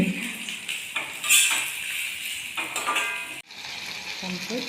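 Jackfruit chips frying in a pan of oil, a steady bubbling sizzle with intermittent scraping and stirring clatter of a utensil against the pan, close and fairly loud throughout.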